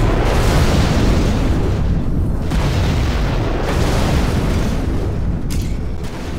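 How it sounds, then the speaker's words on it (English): Heavy, rolling explosions of a Scud Storm missile strike in Command & Conquer: Generals Zero Hour rumble one into the next in a loud, unbroken barrage, with booming low thuds and a slight easing toward the end. "Our Scud Storm has been launched."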